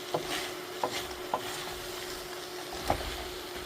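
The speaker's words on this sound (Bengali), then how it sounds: "পাস্তাটা অল্পক্ষণ আমি কষিয়ে নিলাম" Pasta with tuna stir-fried in a pan, a steady close sizzle with a few soft scraping stirs of the utensil, and no voices.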